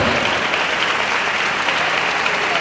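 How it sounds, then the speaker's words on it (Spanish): A crowd applauds steadily, a dense wash of clapping at even volume throughout, with no voices rising above it. "un aplauso."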